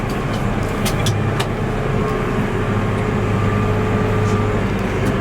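A Massey Ferguson 7614 tractor pulling a topper, a loud, steady engine drone heard from the cab with constant low rumble and occasional rattles.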